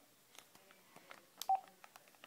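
Phone keypad tones beep as a child presses buttons on a phone during a call, with a handful of short, quiet tones scattered irregularly and one brief louder beep near the middle.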